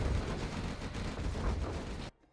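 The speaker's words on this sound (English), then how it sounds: "There's the carpet, and there's the artillery." Dense, continuous rumbling barrage of carpet-bomb blasts and artillery impacts in the real-time strategy game C&C Generals Zero Hour, loud and unbroken, then cutting off abruptly into near silence.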